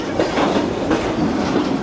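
A train rolls past very close to houses in an Indian neighbourhood, loud and near, with steady rumbling and clattering wheels throughout.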